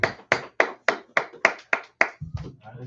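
A church congregation claps together in a steady rhythm of eight loud, even beats about a quarter second apart, then the clapping loosens into scattered, softer claps.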